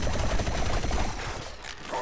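Rapid gunfire from the shooter game Plants vs. Zombies: Garden Warfare 2, a dense stream of automatic shots that stays loud and continuous across the moment before easing slightly near the end.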